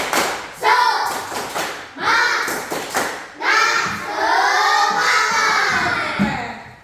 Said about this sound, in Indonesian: kalau senang tepuk semangat.